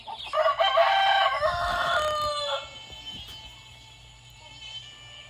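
A rooster crows loudly up close with harmonic, stretched calls over the first few seconds, then fades to quiet background with faint farmyard noise.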